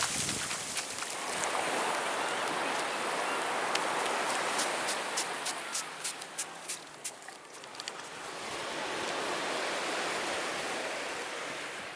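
Sea waves surge and wash continuously onto a beach at Kuala Leuge, Peureulak, Aceh, a steady loud roar of surf with brief crackling splashes and no voices.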